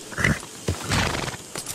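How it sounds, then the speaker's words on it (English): A horse whinnies in Red Dead Redemption, a game horse identified as a Liver Chestnut Hungarian Halfbred, with two or three close, loud neighing bursts and snorts over a short span. "Yeah, good looking horse now."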